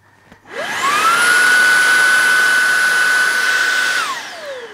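A vacuum cleaner switched on by a button on its back spins up to a loud, steady motor whine and roar, holds it for about three seconds, then winds down as it is switched off.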